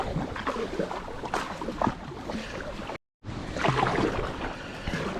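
Wing paddle strokes pulling an Itiwit X500 inflatable touring kayak through open water, a steady rhythm of splashes and drips over wind noise, close to the microphone, with a brief dropout midway.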